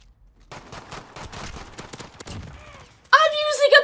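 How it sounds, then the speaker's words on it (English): X16 pistol fire in Call of Duty: Modern Warfare, a run of sharp, rapid shots in quick succession, followed by a louder burst of tonal game or voice sound at the end. "I'm using a pistol!"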